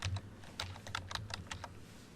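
Keys tapped on a computer keyboard while entering a plugin search in WordPress, a quick run of close, crisp clicks over a low steady hum, no voices.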